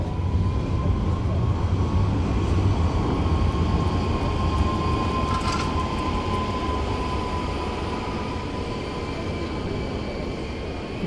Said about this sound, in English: Oh, that's a tram.